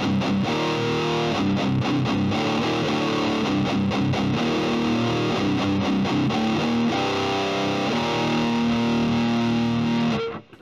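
An electric guitar plays through a Presonus Ampire Pineapple amp model with gain at halfway, breaking up into a gritty, dense distorted tone, with chords and riffs played continuously and loudly up close before stopping abruptly.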